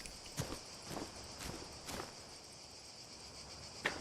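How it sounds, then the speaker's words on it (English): Footsteps in a video game, a slow series of soft, evenly spaced steps over quiet ambience with faint insect-like chirping and no voices. "you use my footstep sound"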